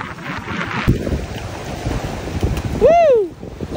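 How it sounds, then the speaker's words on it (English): Waves crashing and colliding on a thin stretch of beach at Camp Caswell, a continuous loud wash of surf with wind buffeting the microphone, then a voice briefly whooping near the end. "I love the way the waves crashing here collide with the waves that are crashing here."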